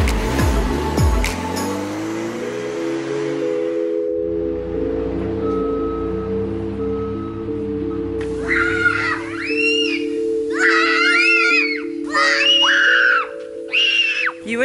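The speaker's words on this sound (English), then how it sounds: "You would think the way these kids were screaming that like they were in trouble." Children playing in sprinklers let out repeated high, wavering shrieks in the latter half, after a stretch of rumbling road noise and steady humming tones.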